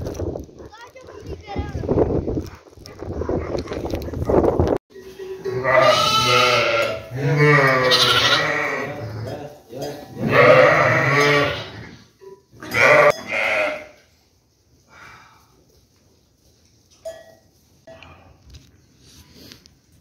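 Newborn sheep bleat repeatedly in a village barn, loud and close, wavering cries in several bursts mixed with people talking nearby, fading to quieter farm noise at the end.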